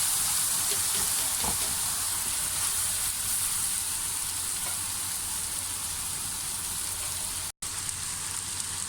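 Rice stir-frying in a hot pan with soy sauce and vinegar, a steady loud sizzle and crackle running continuously with a faint stirring scrape, close up and without talk.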